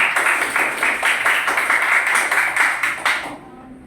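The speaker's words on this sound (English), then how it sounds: "may we clap for Rashid" A classroom audience of teachers claps for a presenter, a dense burst of many hands applauding loudly and evenly for about three seconds before stopping abruptly.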